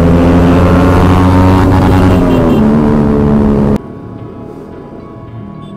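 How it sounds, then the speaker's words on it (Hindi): Motorcycle fitted with an SC Project exhaust revs loud and close with a dense, steady engine roar, then cuts abruptly to a quieter idle-like rumble for the last couple of seconds. "ये देखो इसमें लगा हुआ है SC प्रोजेक्ट। तो भाई सबसे पहले आपको आवाज सुना दें।"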